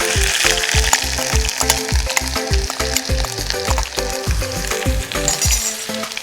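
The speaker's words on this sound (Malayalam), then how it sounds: "വെളുത്തുള്ളി ഇഞ്ചി കടുക് പൊട്ടിക്കഴിഞ്ഞ് നമ്മൾ ഇട്ട് കൊടുക്കുകയാണ്." Steady crackling sizzle of garlic and ginger frying in hot oil after mustard seeds pop, for fish curry, close and loud, with regular rhythmic knocks of a spoon stirring the pan; no voices.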